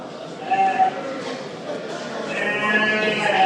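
A Morbaş lamb bleats at a Turkish livestock market, with several short, fairly close bleats among low crowd noise and people talking.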